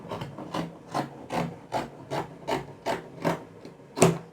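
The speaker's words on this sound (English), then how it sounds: "cut it out" Scissors cut through fabric for a halter neck top, a series of about nine evenly spaced snipping rasps, close and moderately quiet, with no talking.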